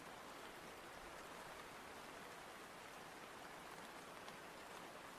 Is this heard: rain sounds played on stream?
yes